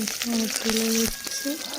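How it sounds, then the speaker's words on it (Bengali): Chillies frying lightly in hot oil, a continuous sizzle with tonal background sounds layered over it, heard up close. "লঙ্কা ছেড়ে দিয়ে লঙ্কাটা হালকা করে ভেজে নেবো"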